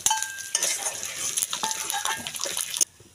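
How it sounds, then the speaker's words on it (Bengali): Fish fries in plenty of oil in a pan, a bright, close crackling sizzle broken by stirring and scraping knocks, then cut off abruptly near the end; no voices. "এখন ঠিক এইভাবে মাছটা ভেজে নিতে হবে।"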